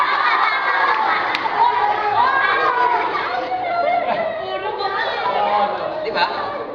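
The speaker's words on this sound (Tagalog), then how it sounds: "Imbes na makinig sa SONA, hiyawan na lang, Brad." A lively crowd chatters and shouts continuously, with children's voices and bursts of cheering rising over a dense, steady wall of noisy voices at close range.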